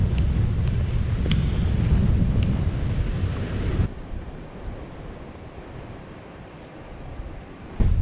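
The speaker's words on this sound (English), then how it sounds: "Up on the tops, the wind is reaching well above 40 miles an hour tonight." Strong wind above 40 miles an hour roars across a mountain top in the Lake District, loud and buffeting with heavy rumbling gusts before dropping to a steadier, quieter rush.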